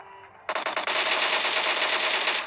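A rapid burst of automatic gunfire in a video game blasts suddenly after a quieter moment, sustained and loud to the end, the shots running together into a dense rattle.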